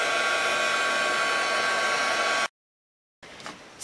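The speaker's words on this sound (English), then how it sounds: "I'm just going to take my heat gun to it, make sure it gets hot" A heat gun blows hot air with a steady, loud broadband hiss for about two and a half seconds, cuts off to silence, then starts up again briefly, heard close up with no talk.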